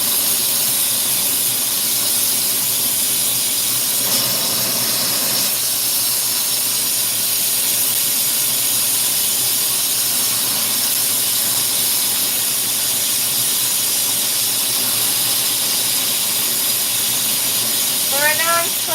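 A glassblowing torch fed with oxygen hisses in a steady, loud rush while a glass pipe is worked, the broadband roar continuing unbroken with a faint squeal near the end.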